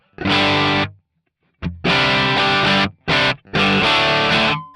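Loud distorted electric guitar chords through a MOOER GE200 with the compressor off ring out in four hard-hitting strums, separated by short pauses, raw and unpolished.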